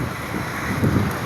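Strong wind blows by the sea in Bataan, a steady full rush of gusty noise buffeting the microphone, with no voices.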